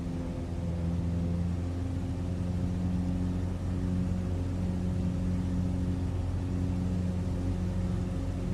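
A steady engine drone from a flight simulator game aircraft, holding a constant pitch with layered humming tones, loud and unbroken throughout, with no voices over it.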